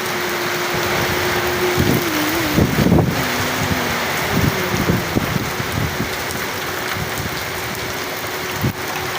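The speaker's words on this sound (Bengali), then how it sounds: "অসাধারণ ঝড় হচ্ছে এখানে" A heavy rainstorm with strong, gusting wind, giving a loud, dense, unbroken hiss of downpour with scattered knocks and rattles beneath it.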